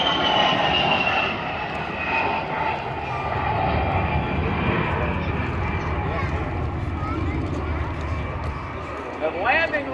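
An F-22 Raptor jet flies past at an airshow, its engine a loud, sustained roar that swells and fades over ten seconds, with crowd and announcer voices faintly underneath.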